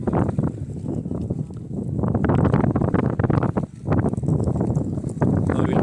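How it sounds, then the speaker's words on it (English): Steady wind buffeting the microphone at an outdoor ultimate frisbee match, a loud low rumble that gusts and swells for the whole stretch, with faint distant voices underneath. "It's too windy."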